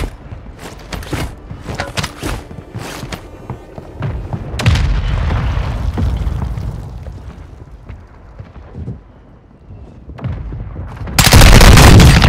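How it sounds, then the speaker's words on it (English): Mortar strike explosions in a shooter video game: scattered sharp gunshots first, then a heavy booming blast with a rumbling tail, followed by a quieter stretch and another loud, harsh explosion at the end. "Hostile mortar strike incoming!"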